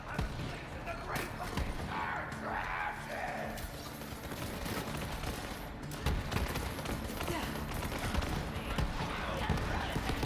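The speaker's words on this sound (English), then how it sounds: "Now that's a Hyperion shotgun." Hyperion shotgun blasts in Borderlands 3 at Ascension Bluff, several bursts of gunfire with a Hyperion shield, loud and continuous over a dense game soundscape, with voices talking throughout.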